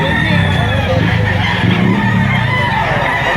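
Chickens and roosters at a busy poultry market in Lipa, Batangas: dense overlapping clucking and crowing from many birds close by, continuous over crowd chatter and voices.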